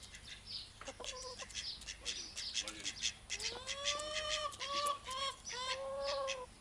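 Chickens cluck softly as they peck at food, including a newer breed with fluffy crests, making a series of short, fairly faint calls that build into repeated clucks.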